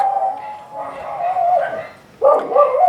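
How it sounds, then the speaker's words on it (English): Several dogs barking at night in a rural neighbourhood, a run of repeated barks and yips at moderate distance, with a louder burst near the end and a voice briefly audible. "As you can hear, our friends the dogs have all started work for the night."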